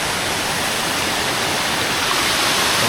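Rushing water at night in a village crab-catching spot, a loud, dense, continuous roar like a small waterfall or fast stream, close and unbroken throughout.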